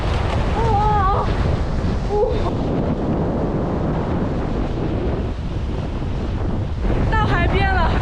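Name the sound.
strong south wind at the seashore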